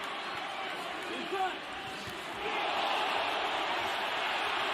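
A heavyweight boxing crowd, Tyson Fury against Deontay Wilder, gives off a steady roar with a brief swell partway through, then grows louder and fuller toward the end.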